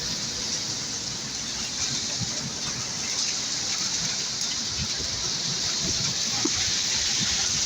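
Heavy rain pours down during a thunderstorm at a market, a dense, steady wash of rainfall with gusts of wind. A faint voice can be heard underneath.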